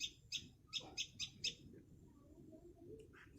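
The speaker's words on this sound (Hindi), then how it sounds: "सुबह सुबह पक्षी का आवाज" Birds chirp in the early morning in a Gorkha village in Arunachal, a run of about six short, bright chirps in quick succession, then a brief call near the end, with a low rumble underneath.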